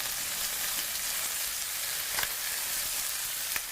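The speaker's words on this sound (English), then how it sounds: "So what we're going to do is going to flip all of our thighs over" Chicken thighs sizzle and fry in a Ninja Foodi PossibleCooker multi cooker, a steady close crackle with a couple of brief scraping clunks as the pieces are turned over.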